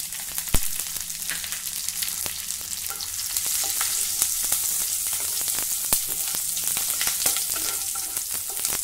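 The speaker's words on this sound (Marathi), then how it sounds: "हे तूप गरम झालं की त्यामध्ये चिमूटभर जिरं घालूया" Cumin and green chilies frying in hot ghee, a dense crackling sizzle that builds and holds steady, punctuated by sharp spoon taps against the pan, close and fairly loud.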